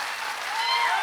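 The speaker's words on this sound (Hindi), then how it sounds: "फटाफट तालियां बजाओ" Brief burst of dense audience clapping in a Delhi auditorium, a steady, fairly loud wash of many hands lasting about a second.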